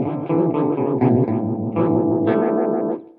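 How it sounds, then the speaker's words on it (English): Electric guitar played through a Fender Hammertone flanger pedal set with deep depth and fast rate, loud strummed chords swirling with a strong whooshing comb sweep for about three seconds before cutting off. "the more depth you have, and the more rate you have, and the more manual have, the more swooshy whooshy it is"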